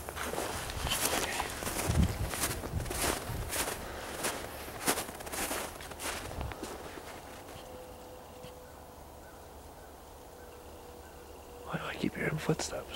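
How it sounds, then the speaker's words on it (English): Footsteps crunch through snow outdoors: a run of regular, fairly close steps for the first several seconds that then fade into quieter background, with a faint voice near the end. "Why do I keep hearing footsteps?"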